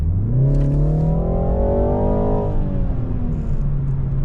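A 2020 BMW 330i four-cylinder accelerating hard, its engine note climbing steadily in pitch for about two and a half seconds before easing into a lower steady drone, loud and close from inside the cabin.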